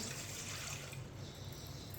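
Two glasses of water are poured into a pot to boil for chicken macaroni in a home kitchen. The pour is a steady, close, splashing rush that runs for about two seconds, and no one speaks.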